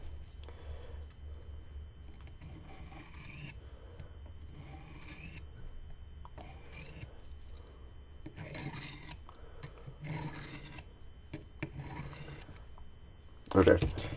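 Knife blade drawn across a finer-grit sharpening stone, giving repeated soft rasping strokes in bursts with short pauses between them, close and fairly quiet, ending with a louder knock.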